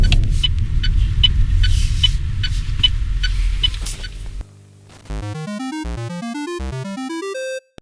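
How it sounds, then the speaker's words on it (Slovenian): A steady Citroën C3 (2024) turn signal ticks at an even pace over a low engine hum, then the hum drops away and a run of electronic tones follows. "zvok, ko vklopimo smerokaz"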